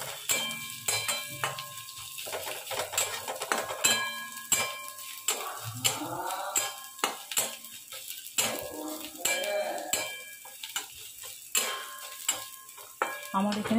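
Onions fry until browned in a pan, a steady sizzle broken by repeated sharp scrapes and clinks of a utensil stirring against the metal, irregular and close.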